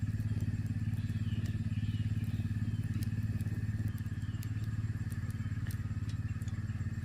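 Anaheim peppers charring directly over a gas flame, skins burning, give a steady low roar with scattered crackles and small pops throughout, close and fairly loud.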